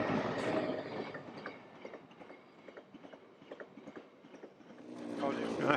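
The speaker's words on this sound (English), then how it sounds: "Coal train, look of it." A coal train passes nearby, with a steady run of rhythmic clicks and clunks from the wagons that swells at the start and end, while a voice talks over it.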